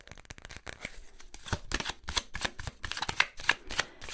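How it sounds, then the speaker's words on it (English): A deck of cards being shuffled up close, a run of quick riffling bursts and soft slaps repeating unevenly. "I'm pretty bad at shuffling. I always drop cards."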